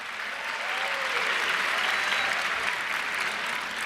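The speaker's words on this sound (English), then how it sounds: "It's okay, give her applause" A graduation audience at VCU's fall 2018 commencement gives sustained applause for an alumna, a loud, dense roar of many hands clapping steadily with a few faint cheers mixed in.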